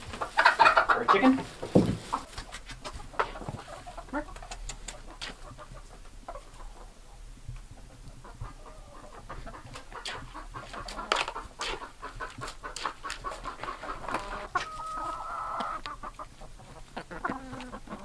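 Chickens in a clean winter coop at a dry cabin: scattered clucks and a few louder squawks that come and go over a low background, with a burst of activity near the start.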